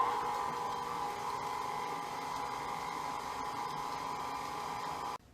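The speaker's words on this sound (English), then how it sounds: "you definitely want to start this mixture now on low speed" An electric stand mixer with a paddle attachment runs on low speed, beating coffee cake batter with lemon zest and juice. Its motor gives a steady close whine and hum that cuts off abruptly near the end.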